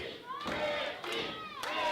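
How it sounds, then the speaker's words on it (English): A wrestling crowd at an indoor show chants a name in rhythmic, repeated bursts, a loud mass of voices rising and falling across the arena. "The crowd begins to chant, as they have so many times, Ricky, Ricky, Ricky."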